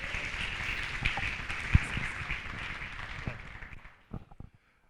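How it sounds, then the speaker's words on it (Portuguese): An audience at a UX talk event gives a short round of applause, a dense, moderately distant wash of clapping that fades out near the end, leaving a few last scattered claps. "Uma salva de palmas, por favor."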